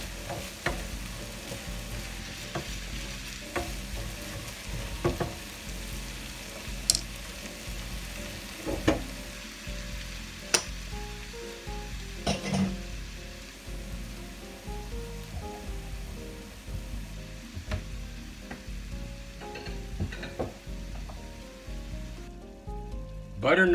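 Butternut squash with ground turkey sizzles in a pan, a steady crackling fry like light rain, with occasional sharp clicks and scrapes from stirring. Close and moderately loud, with no talk.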